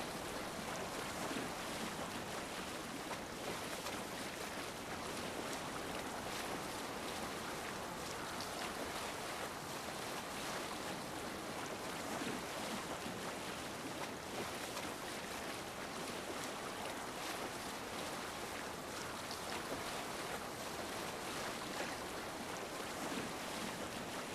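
A Viking longship sails the open sea in Assassin's Creed Valhalla. Steady waves and rushing wind wash along evenly and fairly loud for the whole stretch, with no voices.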